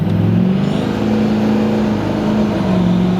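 An 800-horsepower GMC dually truck, a heavy 11,000-pound pickup, accelerates hard with a loud, steady engine roar and a rising drone that stays close throughout.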